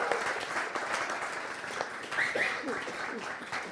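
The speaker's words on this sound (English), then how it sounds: "Round of applause." Audience applause at a coding bootcamp demo day in Berlin, a steady wash of clapping from a crowd of students and guests, with a few faint voices and whoops rising briefly over it.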